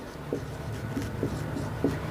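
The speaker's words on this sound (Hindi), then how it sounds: "तो यहाँ पे लिखेंगे हम" Chalk or marker writing on a board during a 12th-grade physics numerical lesson, heard as a few soft, separate strokes and taps over a steady low hum, with no talking.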